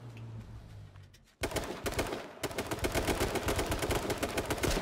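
Gunfire in the survival shooter H1Z1 crackles in rapid, dense bursts of repeated shots after a quiet opening, sounding close and loud and continuing to the end.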